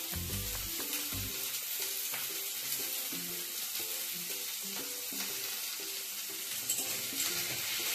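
Onions and spring onion frying in oil for chilli chicken, a loud, continuous bright sizzle with scraping stirs and low thuds as the pan is worked, close and steady throughout.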